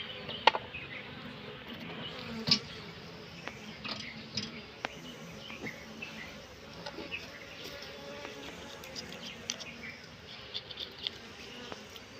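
Bees buzz steadily during honey harvesting from kept hives, a continuous close drone with scattered louder passes and faint ticks, and no talking.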